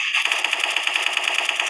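The player's gun in a video game fires in rapid automatic bursts, an even, fast stream of sharp shots held loud and close from start to finish.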